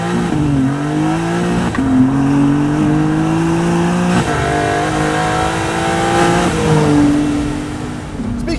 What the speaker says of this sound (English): better to hear that titanium exhaust with, which is so deep and so bassy in the best possible way